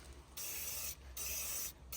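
CRC Bräkleen Pro brake cleaner sprays from an aerosol can onto a bike's brake disc in two hissing bursts, close and steady, separated by short pauses.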